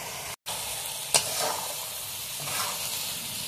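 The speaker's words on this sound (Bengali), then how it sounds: "ডাল আর পটল ভালোভাবে কষিয়ে নিয়েছি" Chana dal and pointed gourd sautéing in a pan, a continuous close sizzling hiss with a brief stirring scrape, heard alone.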